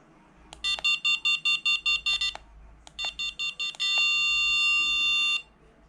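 Aircotec Alib paragliding variometer beeping during setup with its continuous-beep volume changed: a rapid run of short, loud, evenly spaced tones, a pause, another faster burst, then one sustained continuous tone held for nearly two seconds before cutting off, close and alone.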